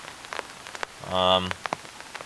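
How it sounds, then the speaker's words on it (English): Rain falls steadily during an outdoor interview, a soft continuous patter with scattered drops ticking on nearby surfaces, and a brief voiced sound rises over it midway. "we are definitely doing an interview sitting out in the rain right now"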